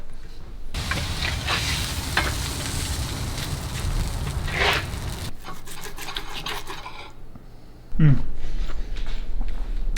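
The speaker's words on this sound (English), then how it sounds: "Do your best to start cooking the steak when it's at room temperature." Steak sizzling as it cooks in a pan, with steady frying crackle, scraping and stirring, then a sharp clatter and louder sizzle near the end.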